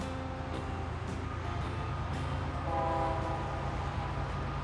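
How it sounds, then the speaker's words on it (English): A low, steady rumble of a train carries from a distance near Picacho Peak, constant throughout with a faint tonal hum rising briefly midway. "you can't get away from the roar of the train and the highway"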